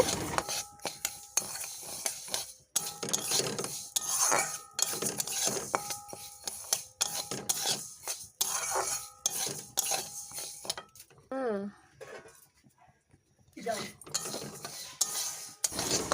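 Mung dal being dry-roasted by hand in a pan, with steady scraping and clinking of a spoon against metal, repeated stirring strokes up close, no speech.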